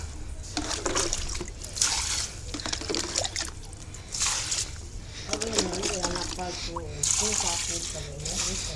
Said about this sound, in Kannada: ಅದಕ್ಕೆ ಇನ್ನೇನು ಮುಸ್ಸಂಜೆ ಆಯಿತು, ಅದಕ್ಕೆ ನೀರು ಹಾಕ್ತಾಯಿದ್ದೀನಿ